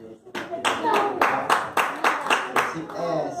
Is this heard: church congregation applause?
yes